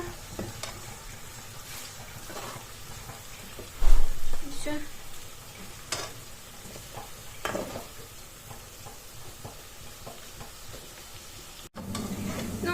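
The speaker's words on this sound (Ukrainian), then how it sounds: "Так, і тут помішувати треба" Onions frying in a pan while being stirred, a steady close sizzle with intermittent scrapes and clatters, one louder knock early on, and a brief cut near the end.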